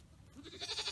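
A baby goat bleats on a farm where goat mothers and rams are kept, a short series of wavering cries that pulse rapidly and grow louder toward the end, close to the microphone.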